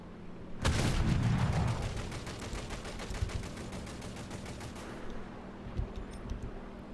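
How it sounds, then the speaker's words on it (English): 150mm tank guns firing in War Thunder, a heavy bassy boom opening into a long rapid burst of rattling reports that ends abruptly, loud and close. "And just a beautiful bassy boom as they go out."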